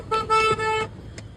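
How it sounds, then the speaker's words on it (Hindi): Car horns toot in Kanpur city traffic, two quick close honks followed by a tiny faint beep, with a low rumble of road noise underneath. "वो है कानपुर का ट्रैफिक"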